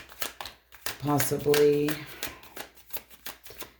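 Tarot cards shuffled by hand during a reading, soft papery riffles and flicks near the microphone, mixed in with someone talking throughout.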